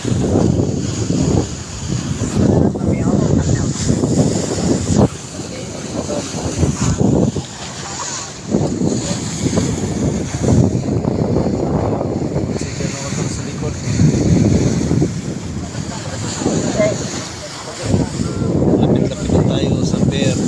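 A boat travels across open sea toward the pier at Bulan, Sorsogon, its engine droning under heavy wind buffeting the microphone and the rush of waves, loud and continuous, with a voice speaking intermittently.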